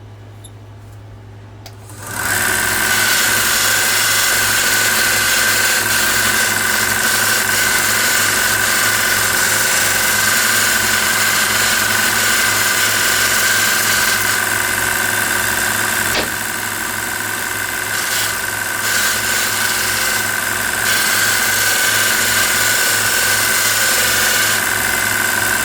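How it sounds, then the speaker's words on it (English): A belt grinder fitted with red label conditioning belts smooths a metal bar. The motor spins up and holds a loud, steady whine for over twenty seconds, with a slight dip partway through, and no talking. "use my red label conditioning belts and work through the grits on that and clean that up a little bit and make it smooth"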